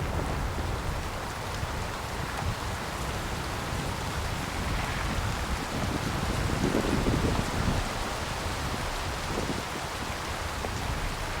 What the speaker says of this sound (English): the wind picks up and rain begins to fall, soaking everything in sight